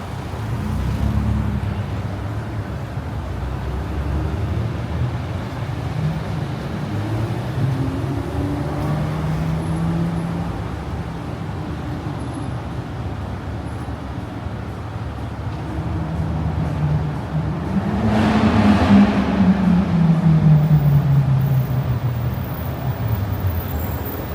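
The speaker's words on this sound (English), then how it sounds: "Definitely feels like very, very heavy rush hour traffic." Heavy rush hour traffic on a downtown Miami street, a constant rolling roadway rumble with a louder vehicle passing close near the end, its pitch sliding downward as it goes by.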